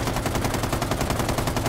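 Rapid automatic gunfire from a weapon in the video game Rainbow Six Siege, a steady burst of closely spaced shots throughout, loud and continuous with no talk.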